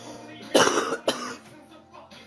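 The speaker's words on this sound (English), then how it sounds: "Smoker's cough." A smoker's cough: two harsh, chesty coughs come close together near the microphone, followed by quieter throat sounds and a faint breath.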